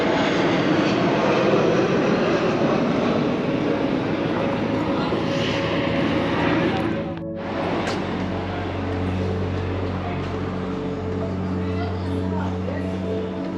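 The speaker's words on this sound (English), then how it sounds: "You can tell we're on the flight path into Split here." A fixed-wing airplane passes overhead on its approach into Split, Croatia, above a seaside campsite. The loud, broad engine roar dominates the first half, then eases into a lower, fading rumble while voices are faintly heard.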